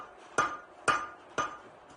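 Three sharp, ringing hammer blows land on hot steel at a blacksmith shop, evenly spaced about half a second apart, each clear and metallic with a short decay, with nothing else sounding.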